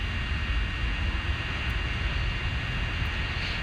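A drone flying nearby during a patrol over a Walmart area, its motors giving a constant high whine over a steady rushing drone, fairly loud and continuous with no one speaking.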